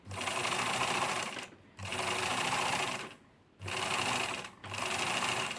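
A 1964 sewing machine stitches in four steady, whirring runs of about a second each, separated by short pauses, close by and alone.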